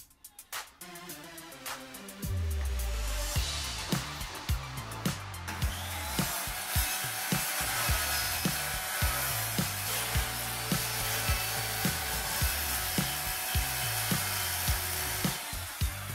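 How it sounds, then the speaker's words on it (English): Power saw cutting material for a new wet room bathroom ceiling, a steady close whine starting after two seconds with a regular rhythmic pulsing of strokes throughout, no talk. "With the rest of the ceiling secure, Ichi started cutting"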